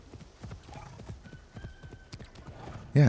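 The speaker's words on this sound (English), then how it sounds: "Yeah, it's definitely a horse. I mean, it's obviously a horse." Horse hooves clop in a steady rhythm across the ground in the video game Assassin's Creed Shadows, with a faint whinny mixed in and a sudden loud sound at the very end.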